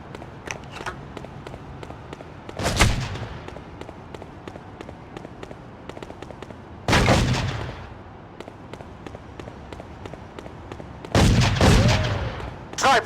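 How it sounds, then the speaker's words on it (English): Sniper fire in the game Made Man, heard as three heavy, booming shots spaced several seconds apart, each ringing out loudly over a faint background of scattered small-arms clicks and pops. "Snipers, commence fire!"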